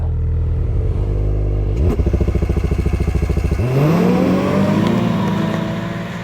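Snowmobile engine, a Mach Z or XRS out on a snowy trail, idling with a rapid clattering pulse before surging into a loud rising rev as it pulls away, then holding a high steady whine.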